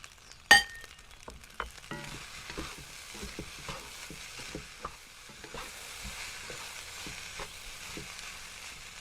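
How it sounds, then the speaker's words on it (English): Leftover brown rice being stir fried for chicken adobo fried rice: a steady soft sizzle with a sharp metallic clink near the start and scattered scraping and tapping of the utensil against the pan. "Mix the prepared leftover brown rice and stir fry until rice is heated and mixed through."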